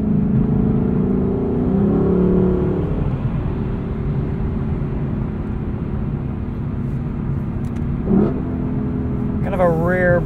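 A 2021 Lexus LC 500 coupe engine hums in a steady, moderately loud drone heard from inside the car while driving, with a person talking over it.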